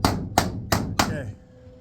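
Four sharp, ringing hammer blows strike metal on a Ferguson TEA20 or TO35 tractor, evenly spaced and close, each with a short metallic decay, then fading into quiet.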